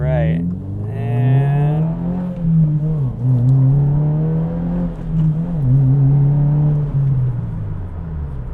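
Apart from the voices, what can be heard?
Subaru WRX accelerating hard through gears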